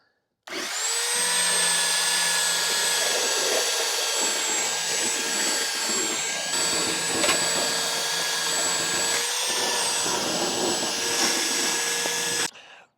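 A power sander whines steadily at close range on pallet wood boards, starting abruptly and running at a constant pitch for about twelve seconds before cutting off.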